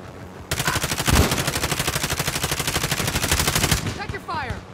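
Sustained automatic gunfire in Call of Duty: Modern Warfare, a rapid, steady rattle of shots lasting several seconds, loud and close, then breaking off into fainter game sounds.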